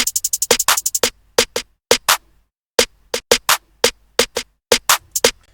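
Programmed drum beat in which a clap takes the place of the main snare, with punchy broadband hits in a steady syncopated pattern, a dense run of rapid strikes at the start, then spaced clap and kick hits, loud and dry with no talking.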